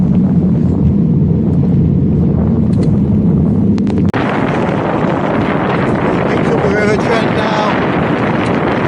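Strong wind buffets a cyclist's microphone on a long road ride through the Newark on Trent area, a loud continuous roar that shifts abruptly midway, with a brief spoken phrase almost buried under it.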